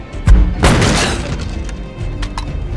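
Gunfire in the game Zeno Clash: a heavy booming shot with a crashing tail, followed by a sustained rumble and a few fainter crackles, loud and close with no talking.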